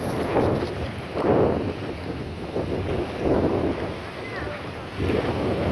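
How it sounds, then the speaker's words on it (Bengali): Gusty wind buffeting outdoors near mango trees in several swelling rushes, with a low rumble underneath. "অনেক সুন্দর বাতাস,"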